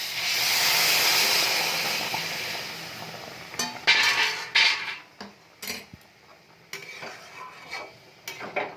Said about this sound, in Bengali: এটা আমি গরম জল রেখেছি, এটা এখন আমি দিয়ে দেবো